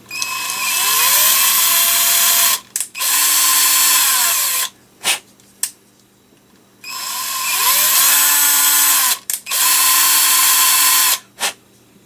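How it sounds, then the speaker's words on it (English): A power tool drives a tap into holes for 3mm screws on a 3D printer filament loader part, whining in two long bursts with pitch shifts as it runs in and reverses, separated by short pauses and clicks. "we're just going to run that tap down and set them to accept the 3mm screws"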